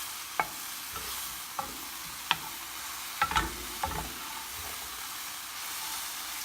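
Vegetables and prosciutto sizzle steadily in a pan while a utensil stirs them, with several sharp scraping clacks against the pan scattered over the constant frying hiss; no talking.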